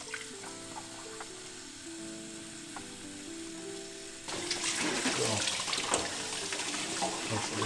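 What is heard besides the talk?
rinsing film with cold running water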